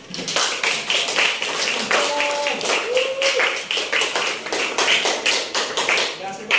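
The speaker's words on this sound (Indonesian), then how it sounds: "Baik, kita berikan aplaus." A classroom of students claps together in applause, a dense run of quick hand claps that goes on steadily for several seconds and is loud and close, with a few voices mixed in.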